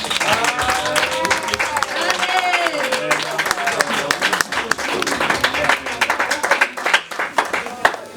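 A church congregation applauds, with dense clapping throughout and voices and cheers rising over it.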